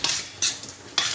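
Quick scraping strokes of a utensil in a bowl while chermoula is mixed with tomato paste, three bright swishing bursts in about a second, close and clear with no voices.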